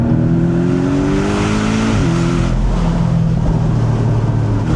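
A Porsche 718 Boxster GTS lifts off the throttle: a loud, close engine drone falls in pitch, then gives way to a rough, crackling exhaust burble.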